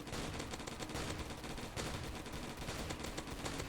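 Gunfire in a zombie shooting video game, dense continuous rapid shots forming a loud, unbroken barrage throughout.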